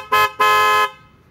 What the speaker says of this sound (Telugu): ఈ విధంగా బిగించడం వల్ల ఒకే హార్న్ ఆరు రకాలుగా సౌండ్ వస్తుంది